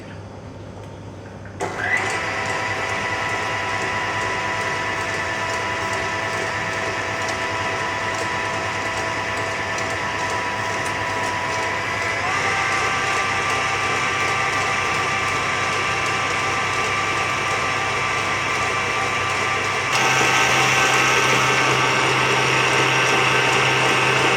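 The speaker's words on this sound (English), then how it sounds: "slowly adding the sugar while the eggs are mixing on medium to high speed" An electric mixer beats eggs as sugar is slowly added at medium-high speed, a steady loud whirring hum that shifts up in pitch and intensity partway through, then steps up again near the end.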